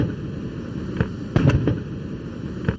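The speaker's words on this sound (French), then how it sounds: "21 coups de canon à l'aéroport international de Nouakchott pour souhaiter la bienvenue au président de la République" A 21-gun cannon salute booms at Nouakchott international airport to welcome a head of state, several sharp blasts spaced irregularly over a busy outdoor crowd hum.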